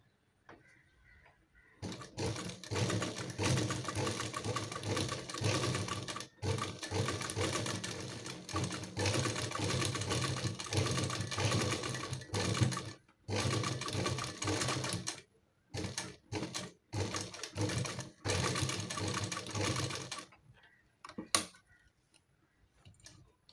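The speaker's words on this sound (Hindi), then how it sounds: "अब इसको लगाएंगे सिलाई यहाँ पे इसको पक्का करेंगे ऐसे ऐसे पक्की सिलाइयाँ लगा देंगे ताकि ये निकले नहीं" A sewing machine stitches trouser elastic in long, steady whirring runs, broken by short pauses, then stops near the end. It sounds close and clear, with no talking.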